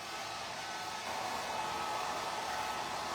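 A hair dryer blows with a steady, close, even rush of air that holds at constant strength throughout, with no voices over it.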